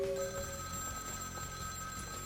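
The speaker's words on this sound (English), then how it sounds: "Phone's ringing." A telephone rings steadily in a dim back-booth scene of Vampire: The Masquerade - Bloodlines, a continuous electronic bell tone over low room ambience, with no one talking.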